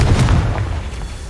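A Confringo blasting spell going off in the Hogwarts Legacy video game, one short deep boom with a rumbling burst that fades over about a second.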